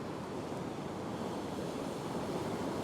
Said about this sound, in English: It's good to have a few waves and a bit of wash, but it does pose its challenges with surge